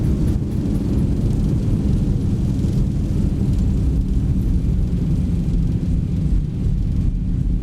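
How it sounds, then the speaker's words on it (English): Zibo Boeing 737 thrust reversers roaring after touchdown in X-Plane 11, a loud, steady, broadband engine rumble heavy in the low end that holds for several seconds with no one talking. "And reversers."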